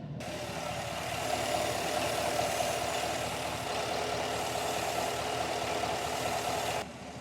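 A 2019-2021 Chevrolet Silverado idles with a steady engine rumble and a broad, constant airy hiss from the oil catch can hose, loud and unbroken for several seconds before cutting off near the end.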